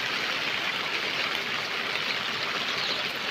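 Steady rain falls in a village and water pours off the roof eaves, a dense and even rushing wash with no voices.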